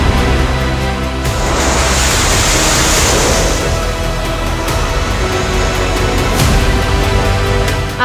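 Sea waves and surf break around a warship in a loud, continuous wash of spray and rushing water, with wind buffeting across it and a few sharper surges.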